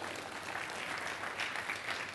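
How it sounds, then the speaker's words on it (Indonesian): Applause from a church congregation during a sermon, a steady dense wash of many hands clapping at moderate level with no speech over it. "Tepuk tangan bagi Allah kita dong."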